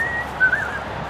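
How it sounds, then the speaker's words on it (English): A man whistles briefly, a short high note that wavers slightly, heard alone. "He's still whistling to the bird."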